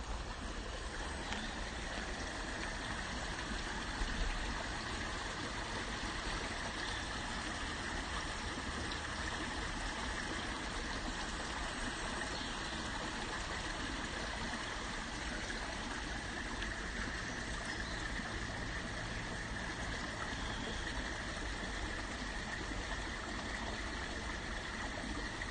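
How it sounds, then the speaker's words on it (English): Running water of a stream beside Trentham Lake, a steady, even rushing wash that continues without a break and sits close and moderately loud. "Sound of running water."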